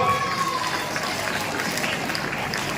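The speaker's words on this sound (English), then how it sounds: "Come on, give a big applause." Audience at the opening ceremony of a national softball tournament in Nandyal, Andhra Pradesh, applauding continuously to welcome participants, a dense steady wash of clapping that fills the space without pause.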